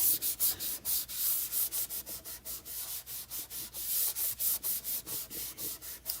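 Sheet of sandpaper rubbed by hand over wood in quick back-and-forth strokes, an even rasping rhythm of about four strokes a second, close and steady.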